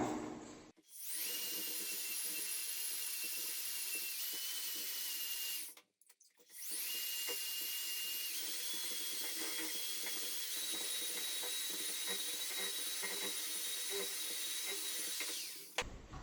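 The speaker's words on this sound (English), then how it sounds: "Now I'm going to use my electric mixer to mix that all up" Electric mixer churning plaster in a bucket, a steady high whine that runs continuously for several seconds, stops briefly, then starts up again and runs on, close and loud.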